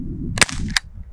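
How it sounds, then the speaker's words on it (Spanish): A Jericho B 4.5mm CO2 air pistol fires one sharp, loud crack up close, followed moments later by a second shorter snap, over a low steady hum. "Mira el disparo aquí, quiero que lo veas aquí"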